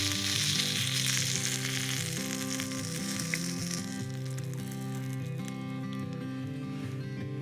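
Gyoza fry on the ridged plate of an electric cooker at a campsite, giving a steady bright sizzle and crackle close up, with a faint motor hum beneath.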